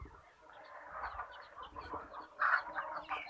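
Desi hens on a backyard poultry setup cluck in a busy, overlapping chorus, with a sharper squawk standing out near the end; the birds sound close and moderately loud with no talk.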